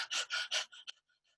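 A voice imitating short, shallow breaths: three quick, loud breathy gasps in a row, then a few softer, fading puffs of air, close and alone.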